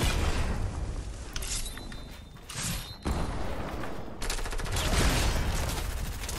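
Rapid bursts of gunfire in the Fortnite video game, with loud dense volleys at the start and again in the second half, separated by a quieter stretch of mechanical clatter.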